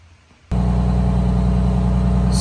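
A Detroit diesel engine with a gear-driven blower starts its loud, steady idle suddenly at about 650 RPM, producing a low, even rumbling drone that carries on unbroken after a quiet opening moment.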